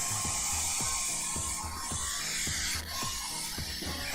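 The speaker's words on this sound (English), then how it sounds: "this thing's so loud. Oh, I can see through my blow dryer" A hair dryer runs continuously at close range, a loud steady whoosh with a faint rhythmic pulsing throughout.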